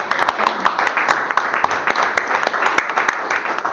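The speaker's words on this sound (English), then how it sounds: "That deserves a round of applause." Applause at a volleyball association's annual general meeting, a small group clapping with distinct, uneven claps that carry on steadily, likely over an online call with thin, bandlimited sound.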